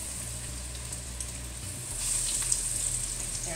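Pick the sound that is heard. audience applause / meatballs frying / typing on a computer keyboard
meatballs frying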